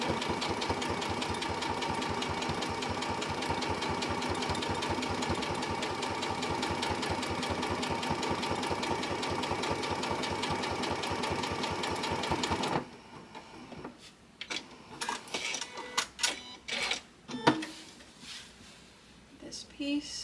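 A sewing machine stitches a piece of a stained glass quilt wall hanging with a steady, fast mechanical chatter for about twelve seconds, then stops, followed by scattered handling clicks and rustles.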